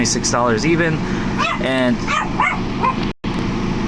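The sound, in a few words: dog barking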